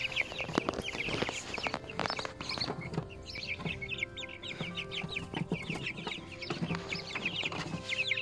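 Month-old chicks in a mobile coop kept warm by a heating plate cluck and peep in quick, busy bursts, a soft, close chorus of chattering over a low background hum.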